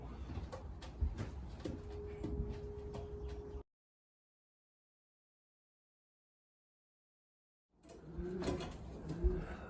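Breeding pigeons in a loft give soft, low repeated coos with some ticking and shuffling, cutting out to silence midway before resuming nearby.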